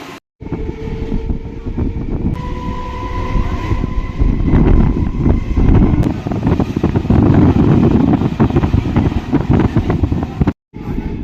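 A local train runs with a loud, steady rumble and rhythmic rattling of the carriages, heard from on board, with a brief drop near the end.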